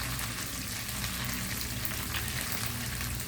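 Salted fish stir-frying in a pan gives a loud, continuous close-up sizzle and crackle of hot oil that stays steady throughout, with no voices.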